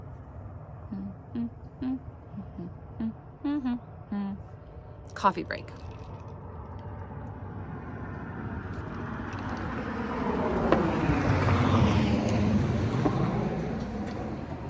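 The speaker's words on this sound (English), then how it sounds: "Here comes a car. Car number 1." Car passing by on a road, its engine and tyre noise swelling from faint to a loud, close peak in the last few seconds, after a stretch of someone talking over quiet background.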